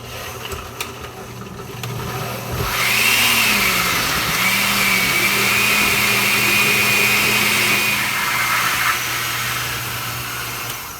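A kitchen blender grinds pozole verde ingredients, whirring loudly and continuously, its motor pitch rising as it reaches full speed and holding steady for several seconds before winding down.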